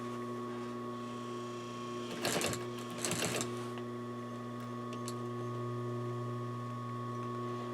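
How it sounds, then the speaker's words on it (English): A sewing machine stitching a summer cushion gives two short bursts of fast stitching over a steady electrical hum, then a few faint clicks. "So as I'm sewing here"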